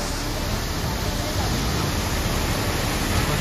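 The Randha waterfall roars beside a deep, dangerous gorge near a temple, its rushing water making a dense, unbroken wash of noise that stays loud and even throughout.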